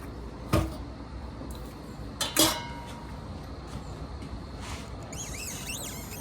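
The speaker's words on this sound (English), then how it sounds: "I'm gonna just put everything back into the bowl." Harvested fall garden vegetables set back into a bowl, making a couple of faint, dull clunks and knocks a few seconds apart in a quiet room.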